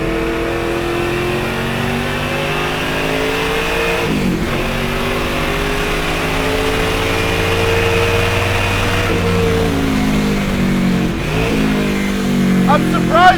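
A Mustang engine revs and pulls hard while driving, the rowdy note rising and falling across gear changes, loud and close throughout, with someone talking over it at times.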